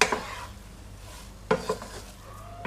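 A spoon scrapes and stirs vegetable cutlet masala with salt in a pan, giving sharp metallic clinks and scrapes in two bursts over a soft background sizzle, close and with no voices.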